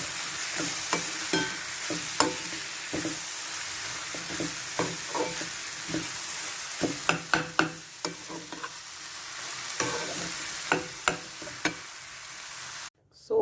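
Onions fry and sizzle in a pan for masala pav, a steady hiss broken by frequent sharp scraping and stirring clicks of a spatula, close and alone with no talk.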